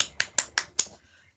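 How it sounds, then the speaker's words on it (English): Four sharp, evenly spaced hand claps ring out in quick succession, close and crisp, each followed by a short decay. "excuse me, I'm going to clap"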